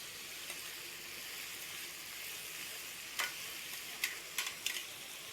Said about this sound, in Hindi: अभी और 2 मिनट में पकाएंगे।